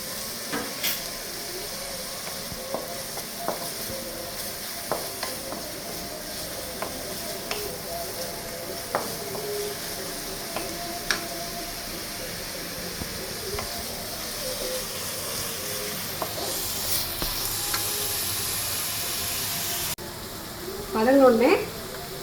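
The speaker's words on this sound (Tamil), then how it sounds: "மீடியம் சைஸ் வெங்காயம் போட்டு நல்லா வதங்க விடணும்" Two finely sliced medium onions sautéing in a pan for butter chicken masala, giving a soft steady sizzle with scattered stirring clicks, followed by a brief louder clatter near the end.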